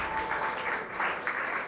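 Audience applause at an award ceremony honoring a lawyer, a steady dense wash of many hands clapping that carries evenly through the whole stretch with slight swells, moderately loud and with no voices over it.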